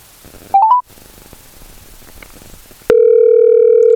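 A phone call dials out to bring a guest into a live show: a short burst of rising touch-tone dialing beeps, then a steady, loud continuous dial tone over faint background hiss.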